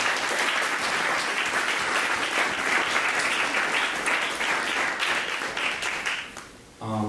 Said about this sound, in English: Can we give another round of applause to Caitlin?